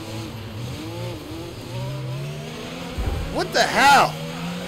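A race car in the F1 22 video game spins out at the Saudi Arabian Grand Prix, engine tone droning then tires squealing in sweeping wails near the end, while someone speaks over it.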